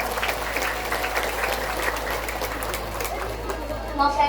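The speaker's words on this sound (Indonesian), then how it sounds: "Tepuk tangan diri dong." An audience at an Islamic study gathering in Tarub applauds: dense, continuous clapping with a murmur of crowd voices, holding steady throughout and swelling slightly at the end.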